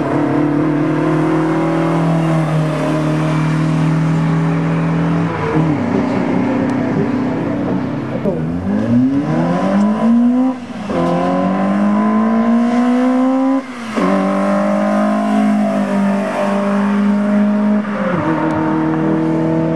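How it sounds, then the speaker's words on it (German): A classic Opel GT with a 1900 engine races past at a vintage car event, its loud engine drone holding steady then swooping through rising and falling revs as it accelerates and passes. "Wunderschönen Opel GT. 1900er Motor"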